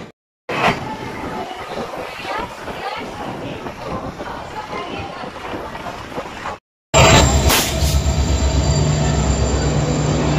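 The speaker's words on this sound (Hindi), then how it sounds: "आपली ट्रेन इथं मागे आलेली आहे 12439 नांदेड श्रीनगर" The Nanded–Srinagar Superfast Express, train 12439, pulls into a station with loud rumbling and squealing wheels, briefly cutting out before a louder, closer stretch of rolling carriages and steady metallic grinding.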